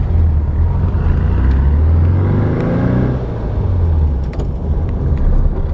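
A 1969 VW Beetle with a manual gearbox drives along with a loud, steady engine rumble heard from inside. The engine note rises and falls slightly as it pulls away, with no talking.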